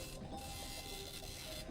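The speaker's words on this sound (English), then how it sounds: "The card's still warm from the printer." A printer in the video game Lost Cartridge: Cold Read prints out a library card with faint, soft mechanical whirring and repeated light clicking ticks under a steady hum.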